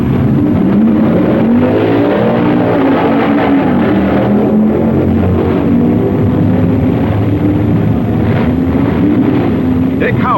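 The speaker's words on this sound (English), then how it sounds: "Koppel beats Bill Flynn in a tight race" Period drag racing cars from 1965 race down the strip with a loud, continuous engine roar that wavers in pitch, heard over wind noise and a muffled voice throughout.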